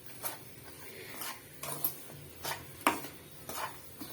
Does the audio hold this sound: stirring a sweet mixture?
yes